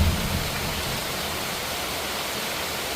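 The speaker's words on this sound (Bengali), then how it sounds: "কি অঝোর ধারায় বৃষ্টি পড়ছে" Heavy rain pours down steadily during a storm at home, a dense, constant hiss that fills the whole clip without pause, loud and close, with no voices.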